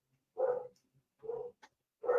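A dog barks indoors, three muffled woofs spaced evenly over a couple of seconds at moderate distance, with silence between them.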